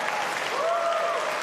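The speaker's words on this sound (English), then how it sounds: "Please give it a round of applause for our students." Audience applause for students at the Governors Cup event, a steady, even patter of many hands clapping, with a few whistles rising above it.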